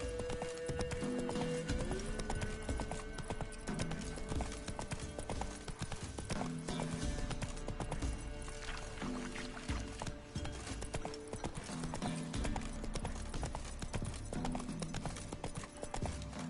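Roach the horse galloping in The Witcher 3, rapid rhythmic clip-clop hoofbeats with an occasional whinny, over a steady game soundscape.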